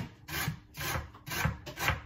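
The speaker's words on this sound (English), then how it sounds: "I'm just going to scrape it with the cheese thing in the box, whatever you call it." A potato skin is scraped with a box cheese grater in four rhythmic, rasping strokes, each a close, gritty scrape followed by a short pause.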